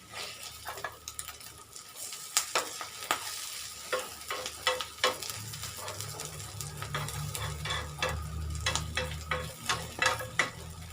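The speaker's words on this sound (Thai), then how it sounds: "ทอดไข่ ใส่ไข่มดแดงจ้า" Eggs mixed with red ant eggs fry in a pan, a steady close sizzle broken by frequent sharp spatters and scraping stirs, with a low bubbling undertone building in the latter half.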